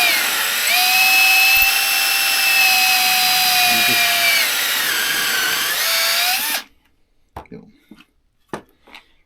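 A power drill bores into soft cedar, a loud, steady high-pitched whine held for about six seconds that dips slightly as the bit works through the wood, then stops, followed by a few light knocks and handling noises.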